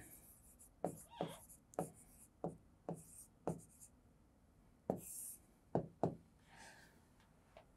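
Black marker writing on a board during a talk on curating insights, heard as a run of close squeaky strokes and taps in an uneven rhythm, with no talking over it.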